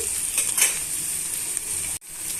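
Chopped onions and ginger-garlic paste frying in a pan for egg curry, a steady bright sizzle that runs loud and close, then breaks off for an instant before picking up again.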